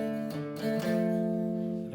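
Electric guitar playing the closing notes of a chorus riff, a few picked notes sliding into a sustained ringing chord, close and steady with no talking.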